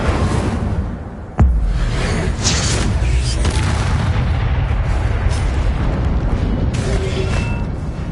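A fire spell, Incendio, erupts as a magical explosion effect: one sudden heavy boom followed by a loud, sustained roaring rumble with scattered crackles.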